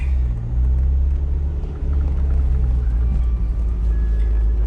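Steady low engine rumble from a turbocharged Toyota MR2, a very low-slung car, rolling out of a parking lot, heard continuously and fairly loud with a brief dip midway.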